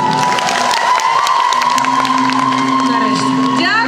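Audience applauding and cheering at an event in a Ternopil shopping mall, a steady dense wash of clapping with shouts and whoops, loud and continuous, with a voice over the noise.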